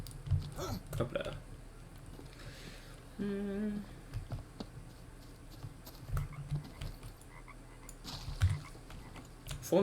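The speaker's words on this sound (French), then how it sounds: "Font du bruit, les grenouilles." Frogs croak in the jungle of the survival game Green Hell, a short burst of ribbed, rasping calls in the middle, with soft scattered clicks and rustles around it and occasional murmured talk.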